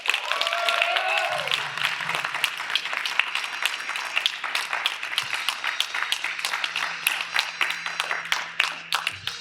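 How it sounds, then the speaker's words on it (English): A convention crowd at a Dragon Ball fan event, Saiyacon 2019, breaks into long, sustained applause, crisp overlapping claps that stay steady for several seconds while a voice and a faint tone briefly sound at the start. "That deserved a very prolonged applause."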